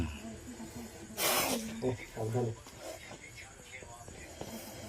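A small young snake hissing, a short sharp burst of hiss up close, with a voice talking around it.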